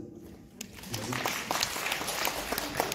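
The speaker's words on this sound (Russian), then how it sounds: "Аплодисменты." A lecture audience on an education topic breaks into steady applause, building after a quiet start and continuing at moderate level throughout.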